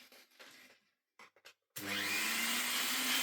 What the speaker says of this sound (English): We're just going to do some vacuuming and see how fun it is.